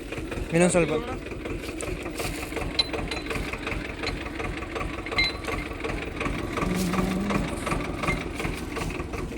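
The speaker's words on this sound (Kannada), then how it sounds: "ಟ್ರ್ಯಾಕ್ಟರ್ ಜೋಡ್ಸಾಕತ್ತೀವಿ" A farm tractor idling steadily with a chugging, knocking diesel rumble as it is hitched up in a grape vineyard, running continuously at moderate loudness while voices call out over it.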